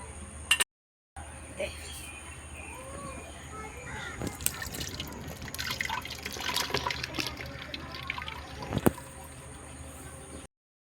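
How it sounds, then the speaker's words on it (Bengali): Water drains and trickles from boiled black taro leaves in a home kitchen, a stretch of splashing and dripping framed by brief silent gaps. "এখন আমি জলটা ঝরাইয়ে নিব"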